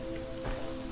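Steady rain patters on surfaces in the horror video game Visage, a quiet, even hiss with one brief soft bump, and no voices.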